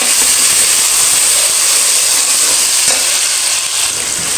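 Tomatoes fry with garlic-ginger paste in a pan, giving a loud, continuous close hiss and sizzle with no voices.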